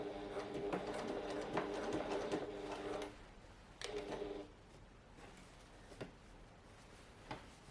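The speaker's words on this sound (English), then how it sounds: "Just take your time, do a couple of stitches and then lift it to adjust." Home sewing machine stitching two fabric layers placed right sides together around a curve, for a pouch. Steady whirring bursts of stitching run for about three seconds, then shorter runs follow between pauses with small clicks.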